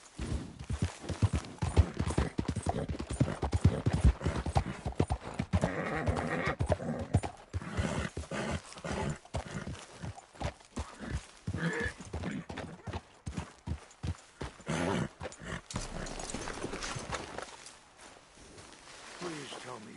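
A horse gallops in Red Dead Redemption 2, its hooves drumming in a fast, continuous rhythm, punctuated by a neigh, with a voice speaking briefly before the pounding fades out near the end.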